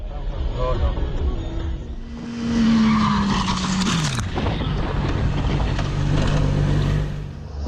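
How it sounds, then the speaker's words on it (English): A truck skids and swerves on a road, a loud tyre screech sliding downward in pitch amid heavy wind and engine noise, followed by rough crashing clatter, with voices mixed in. "After losing control, the truck swerved aggressively and triggered multiple crashes before flipping over."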